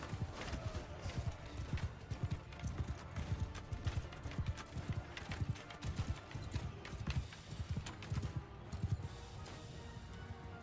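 Cavalry horses gallop in the Mount & Blade II: Bannerlord video game, a dense, continuous drumming of many hooves with occasional clanks, steady and fairly close throughout.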